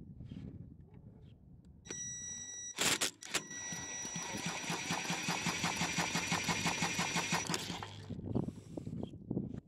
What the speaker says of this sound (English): I'm gonna spin it over with my impact gun